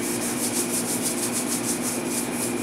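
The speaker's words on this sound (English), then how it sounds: "Now we're gonna take our scrubber here and we're gonna see how much more we can get up" Scrubber pad rubbing stains off a fryer griddle, a steady continuous scraping and rubbing noise at close range with no talking.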